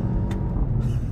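A VW Golf 7 GTI Performance (169 kW) is driven flat out on a twisty mountain pass, with a steady, loud, low engine roar and road noise heard from inside the car.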